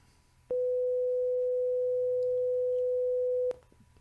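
A steady, pure electronic test tone sounds alone for about three seconds, starting and stopping abruptly against faint background hum.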